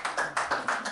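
Sparse, thin applause from a small comedy show audience: about six separate claps in a second, close and dry with gaps between them.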